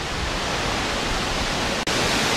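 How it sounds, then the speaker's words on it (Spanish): Falling water roaring steadily at a waterfall in the Cloudbridge cloud forest, Costa Rica, a dense close wash of broadband rushing noise with no talk. "el sonido del agua es increíble"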